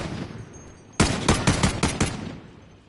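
Video game gunfire: after a quiet second, a rapid burst of about six loud, sharp shots rings out close by in quick succession, then fades into a short echoing tail.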